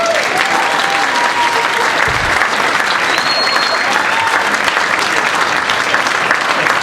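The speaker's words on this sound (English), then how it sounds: "Clap it up for him." A comedy club audience gives sustained applause for comedian Patrick Ward, a loud, continuous roar of clapping with faint cheers and whistles mixed in.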